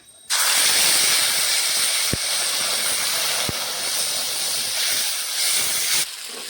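A paste of ginger, green chili and cumin fries in a pan with a loud, steady hissing sizzle that starts abruptly and holds evenly for about six seconds, close up, with a couple of faint clicks and no talk.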